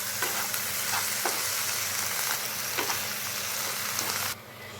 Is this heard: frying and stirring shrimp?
yes